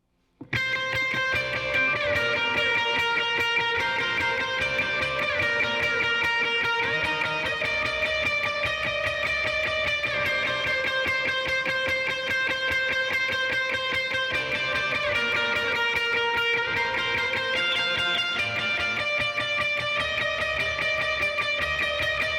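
An electric guitar plays a sustained melodic line drenched in effects, with long ringing notes and shimmering echoes, continuous and loud throughout.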